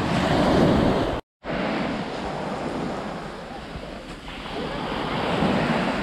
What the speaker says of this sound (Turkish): Bak şu anda dalga var ya.